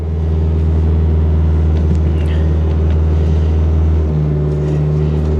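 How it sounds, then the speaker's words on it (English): A 1998 Ford Explorer V8 AWD idles just after firing up: a steady, loud, close low rumble with a constant hum that shifts slightly in pitch partway through, with no talk over it. "It fired right up."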